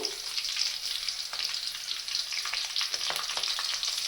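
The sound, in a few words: curry leaves frying lightly in a pan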